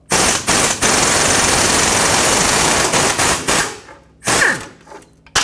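An air impact gun hammers at an exhaust manifold nut on a 2009-2019 Ford Flex, with loud continuous rattling bursts and brief gaps between them.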